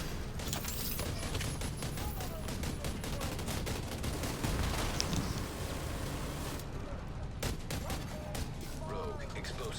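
Sustained video game gunfire during a boss fight against the Iron Horse, rapid steady cracks layered over a dense, constant roar of battle noise, with a few separated bangs near the end.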